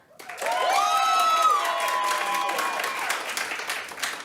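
An audience at a live comedy show claps and cheers to vote, a loud burst of applause that rises suddenly and then holds, mixed with whoops and a sung or shouted voice at the start.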